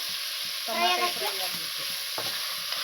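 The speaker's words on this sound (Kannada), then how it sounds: "ಇದು ಫ್ರೈ ಆಗ್ತಾ ಇದೆ ನೋಡಿ ಫ್ರೆಂಡ್ಸ್" Tomato and onion fry in a pan with a little salt for a spicy chicken curry: a steady, close, bright sizzle with intermittent scraping and stirring strokes of a spoon against the pan.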